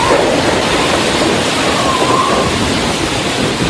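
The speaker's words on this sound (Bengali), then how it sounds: "বাইরে বৃষ্টি ঝরে চলেছে" Rain pours steadily outside as a continuous, loud, hissing wash of noise. It stays even throughout, with no voices or distinct individual drops standing out.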